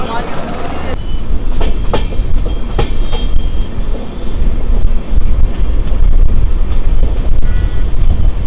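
A Doon Express passenger train runs from Howrah toward Varanasi, making a loud, continuous rumble with sharp rail clicks and heavy wind buffeting against the microphone.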